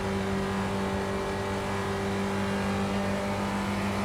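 A Spec Racer Ford engine at Spa-Francorchamps in the iRacing sim drones at a steady, unbroken pitch with a constant whine, heard alone and close for four seconds.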